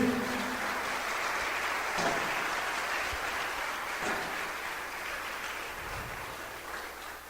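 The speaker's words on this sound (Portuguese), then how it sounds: "Pode glorificar Deus, pode aplaudir." A large church congregation claps continuously, a soft, even roar of hands heard from some distance.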